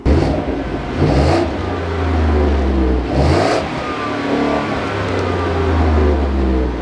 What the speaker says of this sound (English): the exhaust sounds okay